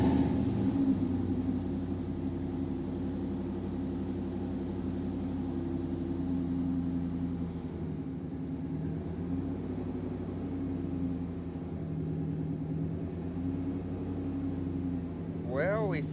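A 1999 Dodge Ram's engine idles close by with a steady, humming drone whose level dips and wavers at moments, reflecting a throttle fluctuation fault.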